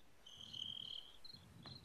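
Faint crickets chirp in a quiet setting, with a short sustained trill followed by a few brief chirps and no talking.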